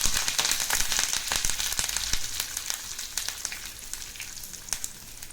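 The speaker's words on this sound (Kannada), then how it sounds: "ಈಗ ನೋಡಿ ಇದು ಸ್ವಲ್ಪ ಚೆನ್ನಾಗಿ ಫ್ರೈ ಮಾಡ್ಕೊಳ್ಳಿ" Mustard seeds, cumin, chana dal and curry leaves frying in hot oil, crackling and popping in rapid irregular bursts over a continuous sizzle that gradually quietens, with no talking.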